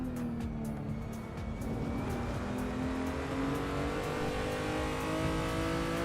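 BMW cars, including an M235i, driving in the Assetto Corsa racing game, a continuous loud engine drone with rising revs and tire noise, no talk.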